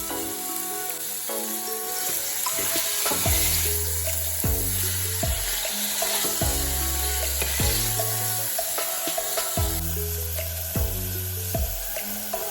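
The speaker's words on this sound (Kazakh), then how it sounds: "Енді пиязымызды салып кішкене қуырамыз, тұзымызды саламыз." Onions frying with salt in a hot pan give a continuous close hiss and crackle, heard under louder rhythmic stepping background music that runs throughout.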